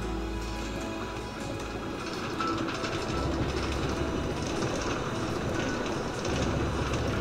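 A New York subway A train runs along the track with a continuous low rumble and rattling wheel clatter, steady and close throughout.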